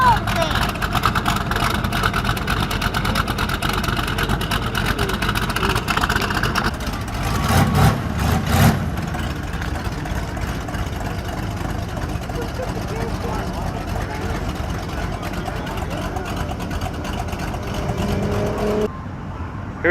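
Cars leave a Cars and Coffee meet, with engines and tyres rumbling steadily nearby and a louder pass in the middle. People talk over the traffic the whole time.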